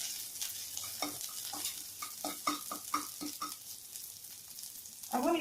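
Ginger and green chili stirred and fried in a pan for spinach soup, a steady sizzle broken by a series of spatula scrapes and stirs, ending in a louder burst of frying.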